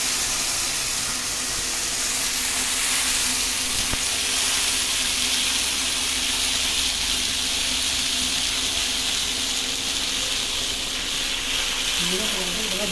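Tomato puree made from two tomatoes fries with cumin in a pan, giving a steady, close hiss and sizzle that carries on throughout without breaking.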